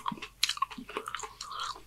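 A homemade Taco Bell Gordita Crunch taco is chewed up close, with crisp shell crunches and wet bites coming in quick, uneven bursts.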